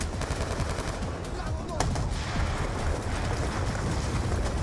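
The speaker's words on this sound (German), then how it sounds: "Ich schieß aber einfach mal auf alles, was sich bewegt" Rapid bursts of automatic gunfire in the Call of Duty: Black Ops 2 game, dense and continuous across the whole stretch, with a sharper single crack near the two-second mark and faint background noise.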